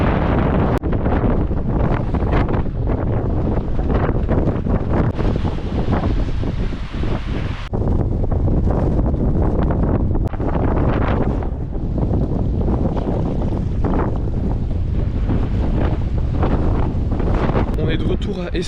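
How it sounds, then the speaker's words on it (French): Strong wind buffets the microphone outdoors on a 4x4 road trip across Australia, producing a loud, constant roaring rumble with gusty surges throughout. "il y a tellement de vent!"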